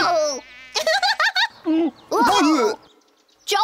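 Cartoon mosquito sounds come as a series of short, high, buzzy warbling bursts with pauses between them, close and fairly loud and alternating with gaps of near silence; no speech stands out.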